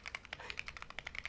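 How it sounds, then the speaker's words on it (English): Rapid typing on an upgraded budget computer keyboard, the cheapest model sold on Amazon, giving a steady run of crisp, close key clacks with no talking. "I bought the cheapest keyboard on Amazon"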